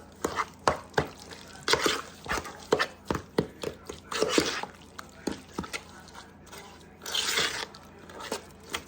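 Cranberry sauce and sugar being stirred by hand in a large bowl, with a series of wet, thick squelching and clacking strokes at an uneven rhythm, close and fairly loud.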